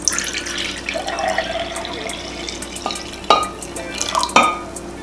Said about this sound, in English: So I'm just gonna pour some apple juice, and you want to do equal parts.